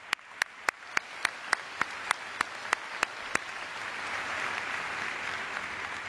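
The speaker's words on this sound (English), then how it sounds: "Let's give that a round of applause." A crowd at a college ceremony breaks into a swelling round of applause that builds into a broad, continuous wash, with a sharp, evenly spaced clicking ticking through the first half.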